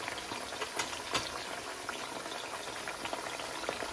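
Thin potato slices fry in hot oil for homemade crunchy chips, making a steady close bubbling and sizzling with scattered small pops as water escapes, and no voices.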